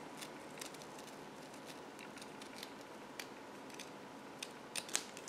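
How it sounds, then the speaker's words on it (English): Scissors snip repeatedly while cutting out a crochet eye piece for a small unicorn pet outfit, producing soft, close, irregular clicks that grow a little sharper toward the end. "And then you just cut the other eye out the exact same way."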